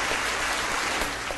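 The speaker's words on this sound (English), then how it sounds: "Let's give him a round of applause." A short, steady burst of audience applause at a comedy quiz segment, dense and even for its whole length with no voices on top.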